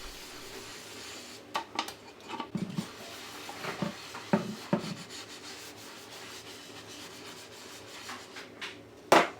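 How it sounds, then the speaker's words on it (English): A Dishmatic dish brush lathered with soap scrubs dishes, a soft irregular rubbing and scraping with scattered louder strokes and a light clink near the end. "So I'm gonna grab my Dishmatic and just lather the soap"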